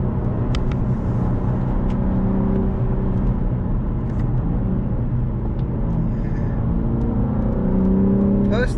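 A BMW G82 M4 engine drones with a steady low rumble heard from inside the car while driving, the revs building only gradually with no sharp peaks.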